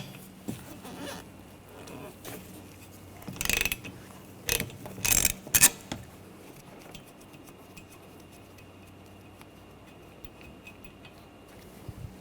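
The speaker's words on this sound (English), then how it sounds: "Using a 15mm socket, take this nut off." Ratchet wrench with a 15mm socket loosening the wiper arm nut on a 2013-2019 Ford Escape, heard as a few short clicking bursts in the middle, then a quiet stretch with faint ambient noise.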